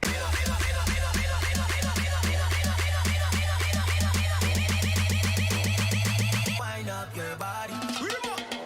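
A moombahton build-up with the full arrangement playing together: steady rhythmic synth stabs, percussion and a sustained low bass drive loudly throughout, thinning into a brief sparse break near the end.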